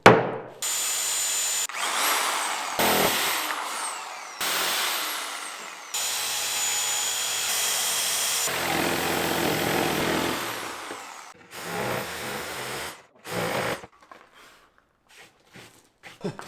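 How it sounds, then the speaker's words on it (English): A Sawzall reciprocating saw cuts through expensive plywood while a truck camper is built, loud, harsh bursts of buzzing cutting, several seconds each with brief pauses, tapering into shorter bursts and quieter gaps near the end. "I might just give that a go with the Sawzall and see how it turns out."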